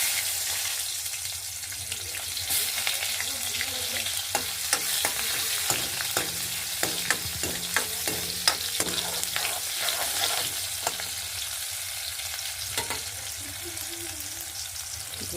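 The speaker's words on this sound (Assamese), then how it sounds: "এইফালে আলু ফ্ৰাই হৈ গ'ল। এতিয়া পিঁয়াজ দিম ইয়াত।" Diced potatoes and onions sizzle steadily in a hot pan on a home stove, with repeated scraping strokes of a spoon stirring them throughout.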